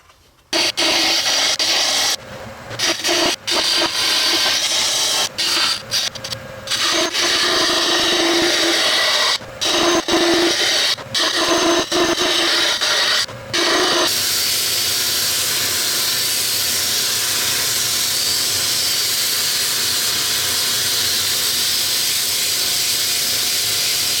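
A steady, loud hiss of a wood lathe cutting a dowel down to size, with brief dips and interruptions early on, then a smoother continuous whine after the tool lifts.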